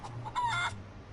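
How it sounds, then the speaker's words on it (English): A feral chicken on Plunder Island in the video game Curse of Monkey Island gives a quick, clear burst of clucking, close and alone over a faint low hum. "Plunder Island feral chicken. One of Plunder Island's most common fauna"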